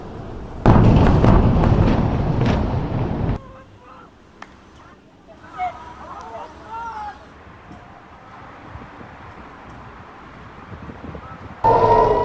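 Distant explosions and booms from Iron Dome interceptions of Iranian ballistic missiles over Israel, a loud sustained rumble at first, then scattered faint pops over a windy outdoor background, with another loud burst near the end.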